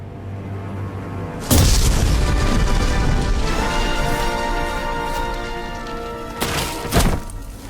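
Heavy booming explosion destroying a factory in a cartoon, a sudden loud blast followed by a long rumbling roar and a second thump near the end.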